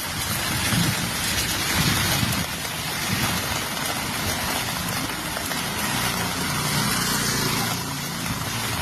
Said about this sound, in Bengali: বৃষ্টি চালু হয়ে গেছে। দেখো সকাল সকাল বৃষ্টি